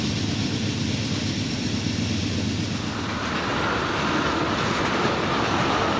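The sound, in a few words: freight train 36A carrying tractors on flat cars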